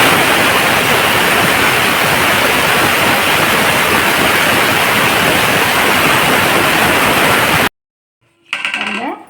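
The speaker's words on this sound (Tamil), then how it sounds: "மிக்சி ஜாரில் பொடிச்சிட்டு சொல்கிறேன்" Spices whirring in a mixer grinder jar make a loud, dense, steady roar that runs unbroken for several seconds and then cuts off abruptly, followed by a brief softer rattle.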